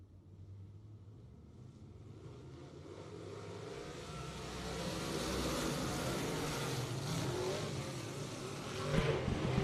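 Modified race cars run a heat at Boothill Speedway. Their engines build from a distant rumble into a louder, revving roar as the pack approaches, then surge sharply at the end. Nobody is talking.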